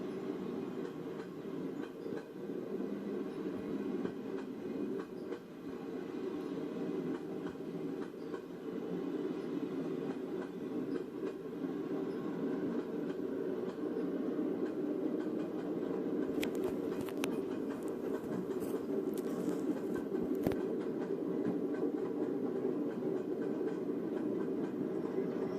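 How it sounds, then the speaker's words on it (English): A train hauled by six steam locomotives rolls along the rails, producing a steady, moderately distant rumble with faint rhythmic clatter and a few brief high squeals from the wheels partway through. "6 locomotives running the rails is a sight few Americans outside of this trip will ever"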